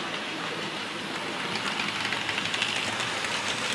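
A British Rail Class 31 diesel locomotive from Stratford depot passes with a steady, dense rumbling roar that swells slightly as it nears, heard alone without talk.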